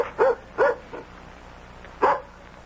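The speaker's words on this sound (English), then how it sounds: "It's just the dog." A dog barks at a door as a radio drama sound effect, three quick barks followed after a pause by a fourth, fairly close and with no talking over them.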